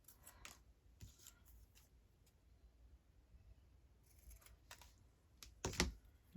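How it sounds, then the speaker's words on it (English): Scissors snip diagonal corners off folded paper for junk journal ephemera, quiet scattered cuts and paper rustles ending in a sharper close snip. "Fold it. And then trim my diagonals off."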